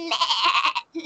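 A brown goat bleats in a short, nasal, wavering call heard close and clear, followed by a brief second bleat after a short pause.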